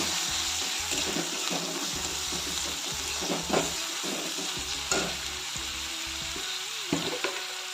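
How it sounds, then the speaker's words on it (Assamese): Ginger garlic paste sizzles in hot oil while being stirred, a steady fry hiss broken by repeated scraping strokes and soft clanks of a spoon against the pan. "আদা নহৰু পেষ্ট, লৰাই দিছোঁ"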